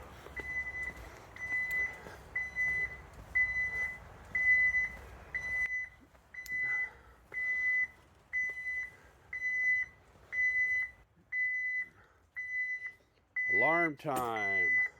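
Store alarm system beeping in a steady repeating pattern of short, evenly spaced electronic tones, with background noise underneath and a sharp warbling electronic chirp near the end.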